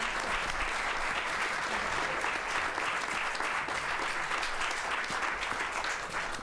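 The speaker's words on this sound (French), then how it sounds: "Je vous demande de les applaudir." Steady, sustained applause from an audience in a hall at a French public-speaking school presentation, even and continuous throughout at moderate volume, with no voice over it.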